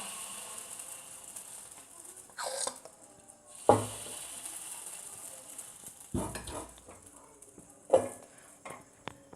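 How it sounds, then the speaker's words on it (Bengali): Rice batter for chitoi pitha hits an oiled, hot clay pan and sizzles, with a steady low frying hiss broken by louder sputtering bursts and a few sharp clinks near the pan. "এবার আমি এর মধ্যে দিয়ে দেব চালের ব্যাটারটা"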